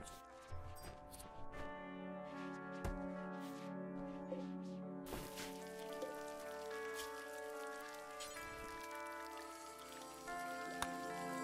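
Steady rain falling in the video game Rimworld, a soft continuous patter during a heat wave, with game music and faint tones over it and no talk.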